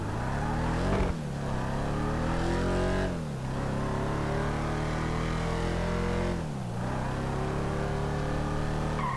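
Car engine in Grand Theft Auto 5, a Bravado Gauntlet S, revs hard as it accelerates from a standstill, the pitch climbing through repeated gear shifts with brief dips at each change. Loud and steady, with no talk.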